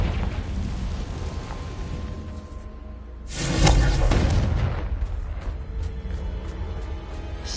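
A Confringo spell in the Hogwarts Legacy video game bursts into a loud booming explosion midway, rising out of a rumbling cave ambience and fading into a crackling tail.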